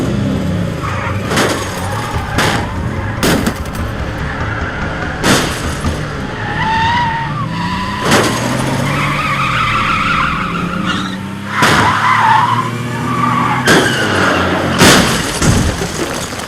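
In a South Indian action film dubbed into Hindi, car tires screech and skid in several sharp bursts between engine roars and heavy impact booms, loud and cinematic, with shouted voices now and then.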